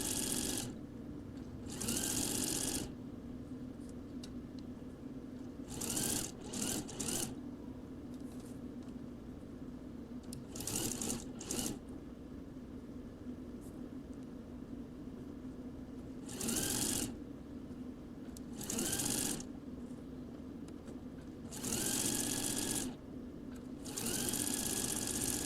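Sewing machine stitching the inner leg seam of a pair of shorts, running in several short bursts of a few seconds each with pauses between, over a steady low background hum.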